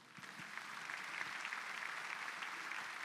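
Church congregation clapping for the Lord, a faint, distant and steady wash of applause in a large hall that holds evenly throughout with no talking.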